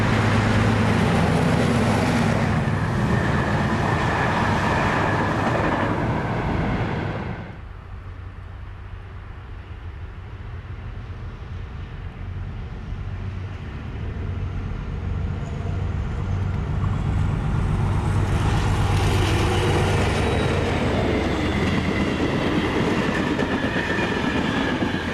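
A French-designed class 1900 diesel locomotive train runs past loudly, rumbling with rail noise, easing to a quieter stretch midway before the roar builds again toward the end; no voices.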